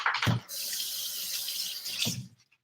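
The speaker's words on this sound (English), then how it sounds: "I'll rinse this off right now." Beets rinsed under a running kitchen tap give a steady splashing water stream, with brief thumps at the start and end as the flow is handled.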